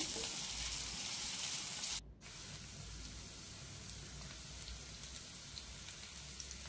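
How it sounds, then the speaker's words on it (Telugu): Chopped onions and green chillies fry in hot oil in a pan, a loud, dense, close sizzle that holds steady throughout, with a brief sharp break near the start before the crackling continues. "ఇంకొక ప్యాన్ పెట్టుకొని ఇందులోకి కొద్దిగా ఆయిల్ పోసుకొని ఆయిల్ హీట్ ఎక్కాక కట్ చేసి పెట్టుకున్న ఆనియన్స్, అలాగే పచ్చిమిర్చి"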